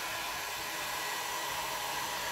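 Hair dryer drying a watercolor painting, a steady, close, loud blowing whir with no breaks and no speech.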